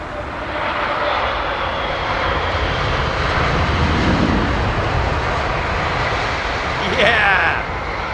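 An airliner lands at Heathrow with a broad, steady jet roar and rumble throughout, fairly close and loud, swelling slightly near the end with a brief high whine on touchdown.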